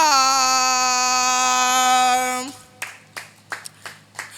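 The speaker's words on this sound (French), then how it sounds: "Acclamez pour l'artiste, s'il vous plaît." After a long, sustained electronic tone cuts off, a handful of scattered, sparse handclaps break out from a stage-show audience welcoming an artist.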